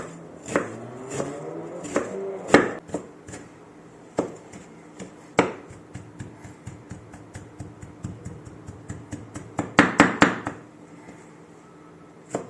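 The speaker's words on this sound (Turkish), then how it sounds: "Ve otumuzu da aynı şekilde ince ince doğruyoruz" A knife chops herbs finely on a cutting board in irregular bursts of sharp taps, close and fairly loud, quickening into a rapid flurry near the end.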